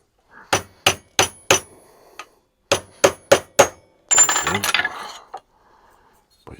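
Sharp hammer strikes on a metal rivet in a steel Freddy Krueger-style clawed glove, two bursts of four quick evenly spaced blows separated by a pause, followed by a brief rattling, scraping metal clatter; close and loud.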